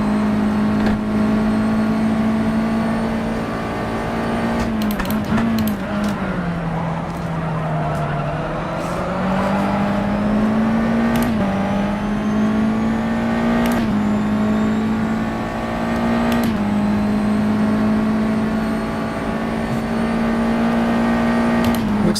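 A USF2000 race car in rFactor 2 on the Botniaring circuit, its engine holding a loud, high, steady whine that dips and climbs through corners, with brief clicks of gear changes.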